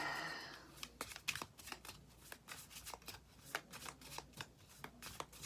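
Tarot cards are shuffled in quick, irregular bursts of papery riffling and slapping, close and fairly quiet, with no talking.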